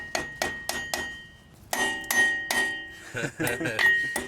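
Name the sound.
lightly tapping grease cap onto boat trailer hub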